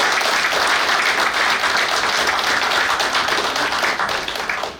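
Sustained audience applause at a Nigerian naval war college graduation ceremony for Naval Warfare Course 9, a loud, dense crowd of clapping hands that stays steady for several seconds before starting to thin out at the end.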